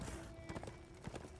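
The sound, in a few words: horse hooves clip-clopping in the video game Darksiders 2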